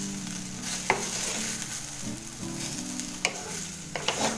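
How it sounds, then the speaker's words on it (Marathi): Okra (bhindi) frying in a blackened kadhai with a steady, close sizzle throughout, while a spoon stirs and scrapes the pan now and then, giving a few sharp clicks. "एक 5 ते 7 मिनटं जातील भेंडी भाजायला"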